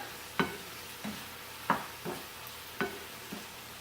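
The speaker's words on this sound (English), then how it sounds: "Now we're going to let these cook in that olive oil just long enough for these onions to come apart and just begin to caramelize" Onions and garlic fry in olive oil with a soft, even sizzle, punctuated by about six sharp stirring taps at a slow, irregular rhythm.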